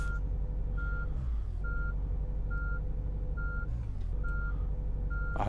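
Repeated reversing beeps from a coach in Fernbus Coach Simulator, steady evenly spaced tones over a low idling engine rumble, with a couple of brief hissy bursts between them.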